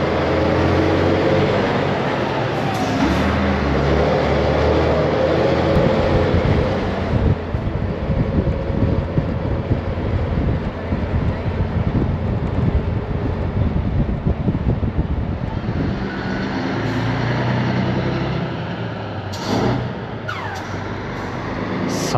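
A bus drives on a mountain road in Bolivia at night, heard from inside as a loud, continuous engine and road rumble with wind noise and a few brief clunks.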